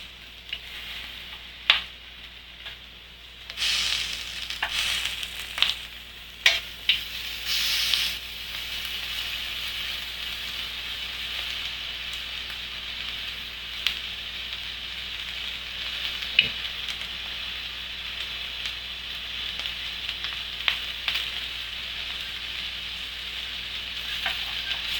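Pork belly frying in a pan with little oil gives off a steady, moderately quiet sizzle and crackle, with occasional sharper pops and scraping clicks from stirring throughout.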